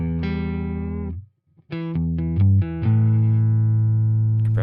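Electric guitar riff played with compression on, in a country-rock tone; sustained distorted chords and single-note stabs ring out with long, even sustain after a brief gap, played alone without talk.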